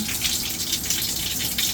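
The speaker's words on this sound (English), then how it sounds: "that's not enough water pressure to get to my scalp" RV shower water running at low pressure, a steady close hiss of spray with no voices over it.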